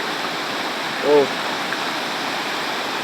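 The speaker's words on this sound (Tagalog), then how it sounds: "Grabe ang agos ng tubig." The strong current of the Mayhay River rushes in a loud, steady roar close by, with a brief exclamation from a voice partway through.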